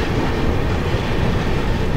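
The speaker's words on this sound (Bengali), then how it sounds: "আর আমাদের ট্রেন বালেশ্বর থেকে ছাড়লো" The Howrah–Tiruchirapalli SF Express running between Balasore and Bhadrak at night, a loud continuous rumble of wagons with steady clickety-clack from wheels on rail joints, heard from inside the train.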